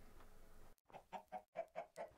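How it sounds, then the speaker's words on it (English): Chickens in the video game Minecraft cluck in a quick run of six or seven evenly spaced, close, clear clucks after a brief quiet gap, with no speech over them. "Look at all the chickens around here."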